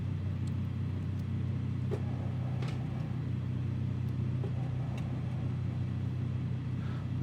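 A Beechcraft Duke's piston engines idle steadily after start in a flight simulator, producing a constant low rumbling drone at moderate volume with no speech.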